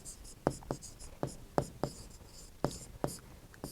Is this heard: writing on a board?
yes